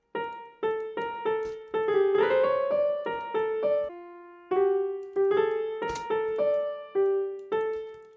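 A synthesized melody for a beat built in FL Studio plays alone, with bright repeated plucked notes in a short looping pattern, clear and moderately loud with no voice.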